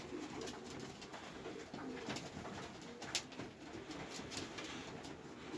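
Racing pigeons coo softly in a loft on a quiet morning, repeated low murmuring calls with a few brief flutters and knocks in the background.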